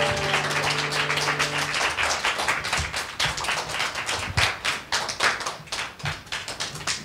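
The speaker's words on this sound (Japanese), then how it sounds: "大きな拍手で先生を迎えていきましょ" A church congregation claps to welcome a guest teacher, dense close applause that stays lively throughout while a sustained musical tone fades out early.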